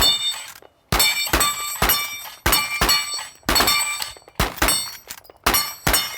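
A lever-action rifle fires about seven rapid shots at a row of milk jugs 75 to 100 yards away. Each loud, sharp crack rings briefly, with short pauses between shots.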